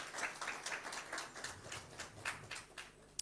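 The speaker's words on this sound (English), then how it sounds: "I think we all deserve a round of applause for being here today." Audience applause at a climate finance lunch session, a soft, distant patter of scattered clapping that rises and falls for a few seconds in a quiet room.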